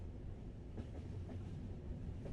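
The Hogwarts Express steam train running on the rails, a steady low rumble with faint rhythmic clickety-clack from the wheels, continuous and moderately loud with no voices.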